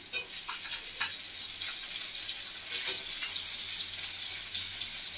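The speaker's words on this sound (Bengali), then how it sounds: "2-3 মিনিট মতো আলুটা কাঁচা কলাটা ভালো করে ভেজে নিয়েছি" Potato and raw green banana fry in oil in a pan for a rohu fish curry, a steady close sizzle with occasional scraping stir clinks running throughout.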